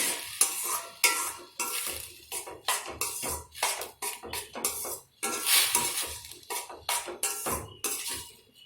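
Semiya kesari is stirred after saffron milk is added, giving a rapid, irregular run of spoon scrapes and clinks against the pan over a soft sizzle, close and steady with no talking.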